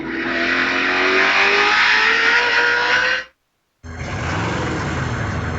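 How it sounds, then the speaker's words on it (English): Craftsman Truck Series race trucks roar past at Martinsville, loud continuous engine drone with rising pitch as they accelerate, then a brief cutoff and the pack resumes at high volume; no talk. "Travis Quapple in his Toyota out in front of the field"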